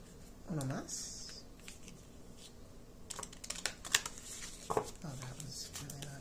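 Cards being shuffled and riffled in short bursts close by, with soft rustling and faint speech in between.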